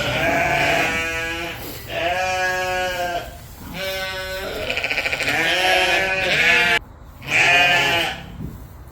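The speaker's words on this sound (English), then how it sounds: "Let's get a closer look at those babies. Two little lambs." Young lambs on a spring farm bleat loudly and close by, several drawn-out calls in turn with short gaps between them.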